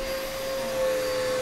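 A vacuum cleaner runs steadily nearby with a constant droning whine and a strong tonal hum, alone with no talk.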